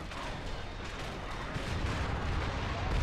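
Continuous dense gunfire and explosions from a StarCraft Enhanced Swarm mod battle, a loud, steady rumbling barrage that swells slightly toward the end, with no pauses.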